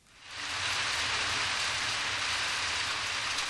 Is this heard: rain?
yes